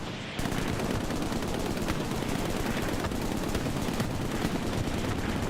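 Sustained machine-gun fire rattles without pause in an online 30 vs 30 shooter match on the Omaha Beach map, loud, dense and continuous with overlapping bursts throughout.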